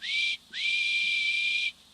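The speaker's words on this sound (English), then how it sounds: "That sounds like a guard's whistle" A guard's whistle shrills twice, a short blast then a longer sustained one rising into a steady high tone, heard clearly on its own.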